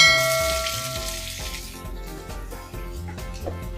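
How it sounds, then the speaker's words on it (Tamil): Onions fry with spices in hot oil for a soy meat curry, giving a soft, steady sizzle with light stirring and scraping in the pan. "வெங்காயம் ஓரளவு வதங்கி வருது"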